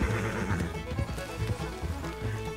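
A horse in Red Dead Redemption 2, the blue roan Nokota called Tempestade, whinnies loudly while its hooves clip-clop in a steady uneven rhythm close by, with no talk over it.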